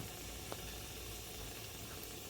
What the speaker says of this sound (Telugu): ఈ మసాలా సరుకులు కొంచెం చిట్టుపట్లాడేంత వరకు వేగాలండి.